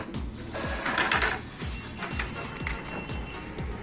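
An Epson L3101 inkjet printer runs off a page, its print head carriage shuttling in a steady, regular rhythm of mechanical clicks and whirs, close and moderately loud with no talking.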